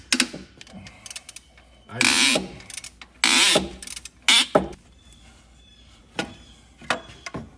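Ratchet working on an old car alternator removal, bursts of close clicking and metallic rattling separated by pauses, loud near-field mechanical noise with some handling sounds.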